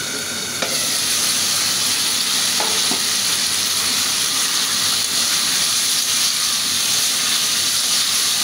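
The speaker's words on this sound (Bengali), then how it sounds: "আমার মশলাটা ভালো করে কষিয়ে নিচ্ছি।" Potatoes fry in spiced masala for a hilsa fish curry with potato and eggplant, giving a steady, loud broadband sizzle with a few soft stirring clicks and no voices.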